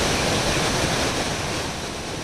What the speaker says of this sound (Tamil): தற்பொழுது வெள்ளம் கொட்டி வருகிறது